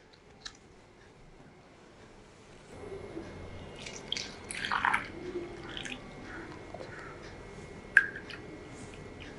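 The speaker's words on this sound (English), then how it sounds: "Now for the second balloon, I'm going to fill it with water. So I'm using a funnel for this." Water trickles and splashes through a funnel into a balloon, a faint gurgling pour with scattered drips and small clicks, close and quiet in an otherwise still room.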